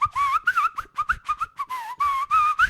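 A person whistles a quick, wavering tune in short, close, clear bursts with brief gaps between them, and no speech over it.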